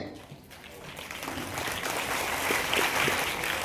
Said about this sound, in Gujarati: તો તાળીઓ એવી પાડો કે આખો હોલ ગુંજી ઉઠે.